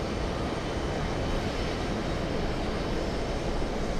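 Airliner on final approach at JFK airport, a steady broadband engine roar with airflow rush holding constant and moderately loud for a few seconds, no voices.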